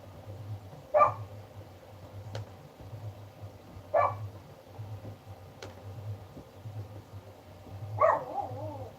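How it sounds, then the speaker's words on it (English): A dog barks in the background about three times at regular intervals, fairly faint, over a steady low hum. "I can hear your dog barking back."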